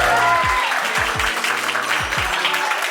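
A wedding reception crowd breaks into loud, sustained applause for a toast to the brides, dense clapping filling the room with a few low thumps underneath.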